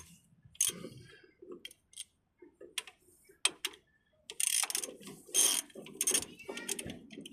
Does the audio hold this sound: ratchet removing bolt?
yes